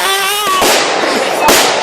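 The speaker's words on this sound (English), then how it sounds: "It's a firework." Fireworks at a public firework display in Potton in 2012, with two sharp broadband bursts about a second apart, loud and close, following a fading whistle-like tone.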